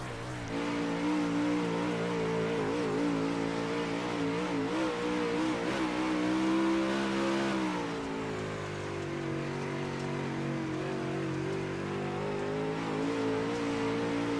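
Onboard a race car leading at the Knoxville Raceway dirt track: a loud, sustained engine howl close by, with pitch rising and falling as the car lifts and accelerates through the turns, no talking.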